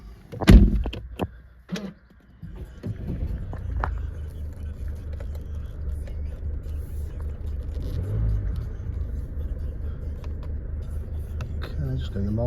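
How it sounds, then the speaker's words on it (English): A Mercedes-Benz A-Class A200d AMG Line 2.1 diesel starts after a door thud and brief clunks, settling into a steady low idle rumble that continues without break, close and fairly loud. "Just start the car up."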